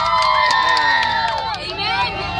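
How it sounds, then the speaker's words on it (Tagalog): A group of children shouts and cheers loudly together on a bus at a safari park, high voices overlapping in a dense, excited clamour that dips briefly before swelling again. "Palakpakan na may kasamang sigawan!"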